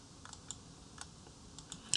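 Quiet, rapid typing on a computer keyboard, with a scattered series of light key clicks and a sharper tap or two near the end, close by and with no voices.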